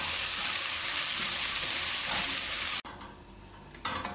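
Washed samak rice stirred in a pan to dry off, producing a dense steady sizzling hiss that cuts out abruptly partway, leaving quieter scraping, with no talk.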